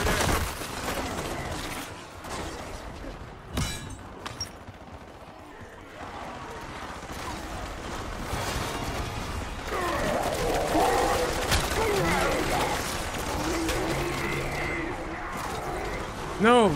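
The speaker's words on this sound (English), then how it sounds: "Wait, no, I have a sentry gun." A sentry gun fires in Black Ops 6 Zombies, its shots buried in a dense mix of gameplay noise, explosions and overlapping talk that runs throughout.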